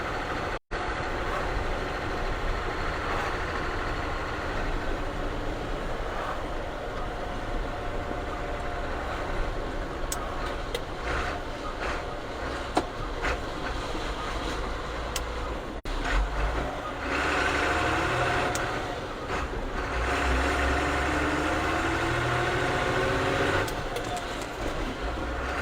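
A BJ engine runs steadily just after startup, a continuous low rumble with small throttle rises that lasts throughout, loud and close, with a faint voice now and then.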